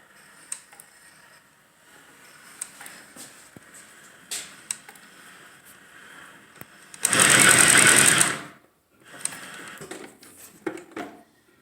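A Leather Master leather patch sewing machine runs a short burst of stitching, a loud whirring run of about a second and a half set among quieter clicks and handling noises.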